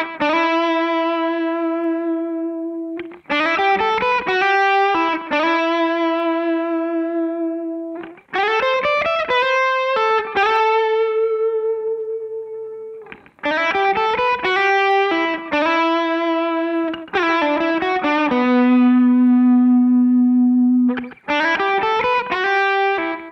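Electric guitar played through a pedalboard on a delay preset: loud, sustained, slightly overdriven phrases and chords with echoing repeats, in several bursts separated by short pauses, with no talking.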